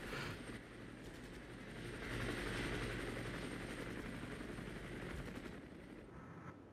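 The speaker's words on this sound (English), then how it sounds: "the Mi-24 shouldn't be far away now" Mi-24 attack helicopter arriving in the war game Armored Brigade, a steady loud rotor and engine roar that swells mid-clip and holds, with no talk over it.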